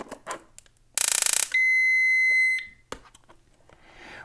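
An electronic timer padlock hit by a pocket EMP gives a rapid buzzing burst of beeps, then a loud, steady, shrill tone lasting about a second before it cuts off, with faint clicks around it.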